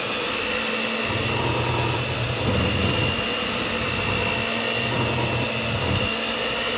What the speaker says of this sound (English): on this part I'm going to use my electric mixer